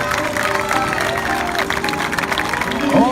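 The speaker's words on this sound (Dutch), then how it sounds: "Kijk applaus voor jou" Crowd applause for a child runner at a kids' running event in Maastricht, a short burst of clapping and cheering mixed with an announcer's amplified voice and general outdoor bustle.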